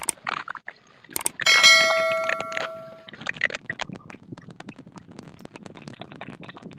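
A bright, ringing notification bell chime rings out once with a sustained shimmering tail, followed by clicking and light clattering sounds.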